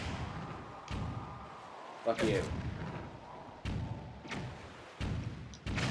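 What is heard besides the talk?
cannon blasting enemies in The Legend of Zelda: The Wind Waker HD video game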